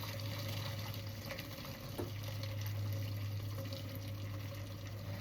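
Meat stock pours steadily and quietly from a pot under a constant low hum, a soft continuous splash with a few faint clinks.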